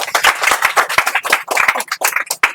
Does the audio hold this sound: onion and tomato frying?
no